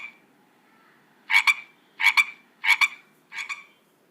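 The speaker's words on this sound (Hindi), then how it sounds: "मेंढक तो आपने यकीनन देखा ही होगा" A frog croaks four times in a row, each call a sharp doubled pulse separated by short pauses, close and clear against a quiet background.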